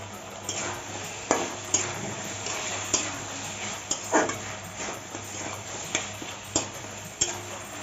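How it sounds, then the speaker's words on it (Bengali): Rohu fish bone chorchori with garam masala and coriander leaves is stirred in a pan: repeated scraping strokes of a spoon come at an irregular rhythm over a soft background sizzle. "এখন ভালো করে নাড়িয়ে নেবো"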